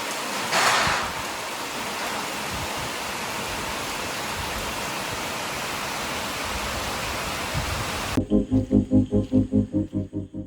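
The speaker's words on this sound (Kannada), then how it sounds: "ಸುರಿತಾ ಇದ್ದ ಮಳೆ ನೋಡ್ತಾ, ಆ ಸೌಂಡ್ ಕೇಳ್ತಾ ಟೈಮ್ ಹೋಗಿದ್ದೇ ಗೊತ್ತಾಗಲಿಲ್ಲ" Heavy rain at a Dandeli resort, Uttara Kannada, pours down in a dense, unbroken roar, then gives way to a rapid series of rhythmic thumps near the end.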